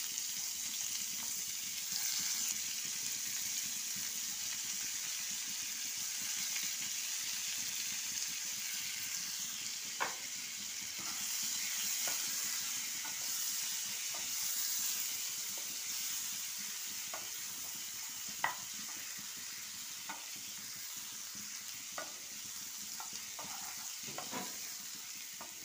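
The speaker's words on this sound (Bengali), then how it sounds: "এবার এতে আমি পেঁয়াজটা তুলে দিলাম, যে 2টো পেঁয়াজ কেটেছিলাম তুলে দিলাম।" Two sliced onions sizzle steadily in hot oil seasoned with cumin, cardamom and cinnamon, a continuous close frying hiss broken by occasional sharp pops and stirring clinks.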